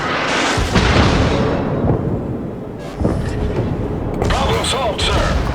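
Heavy naval guns boom in World of Warships, the Yamato battleship's salvos rolling out as loud, deep blasts with long rumbling decay and fresh impacts layered over continuous battle noise, with a voice talking over the action.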